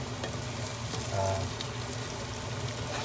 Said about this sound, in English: fry the onions now until they're darker brown